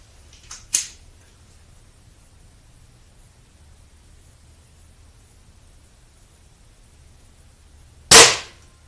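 A Mondial RO71 .177 air pistol fires twice: a sharp crack with a small click just before it, then silence, then a louder, closer pop near the end.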